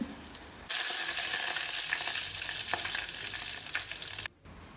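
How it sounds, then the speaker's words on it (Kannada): Hot oil bursts into a loud sizzle as mustard seeds hit the pan, crackling and popping steadily, then cuts off abruptly. "ಎಣ್ಣೆ ಚಿಟಪಿಟ ಅಂತ ಅನ್ನುವಾಗ ನಾವು ಪಟ ಪಟ ಅಂತ ಸಾಸಿವೆ ಹಾಕಬೇಕು"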